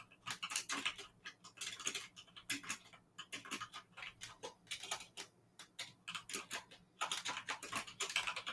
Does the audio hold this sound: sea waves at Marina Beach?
no